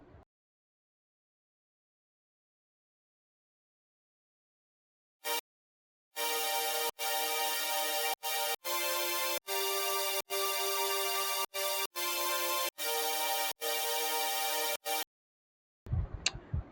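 Layered saw synth chords for melodic dubstep, played in FL Studio, ring out as bright, buzzy sustained stacks in a steady chopped rhythm of about a dozen bursts with short gaps. The chords are loud and stand alone after a brief opening hit.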